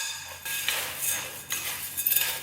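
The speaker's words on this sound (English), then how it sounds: "I'm just going to give that a mix and kind of combine" Dry baking ingredients stirred together in a bowl, a steady scraping swish of utensil against the bowl with light clinks, repeated in several strokes, close and alone without talk.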